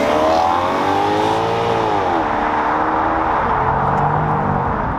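A Maserati Quattroporte driving, its engine note held steady and loud from inside the car, pitch rising then easing slightly as it cruises, with no talking.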